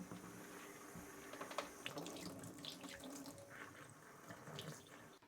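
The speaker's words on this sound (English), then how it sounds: "Use lukewarm water, water that's not too hot but not too cold either, and give the I don't know, and give the whole thing a good rinse." Lukewarm tap water running over an overwintered chilli plant in a sink, a steady close splashing flow with shifting spatter, without talk.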